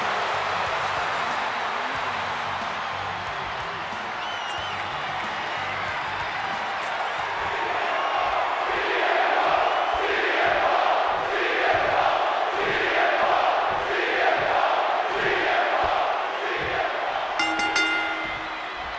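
A WrestleMania crowd in WWE 2K26 roars steadily, then rises into loud rhythmic chanting and cheering that pulses for several seconds.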